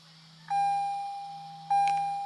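A Lexus RC F aftermarket 10.25-inch touchscreen radio powering on, giving two clean electronic beeps about a second apart, each a steady tone that fades slowly, over a faint hum with no talk.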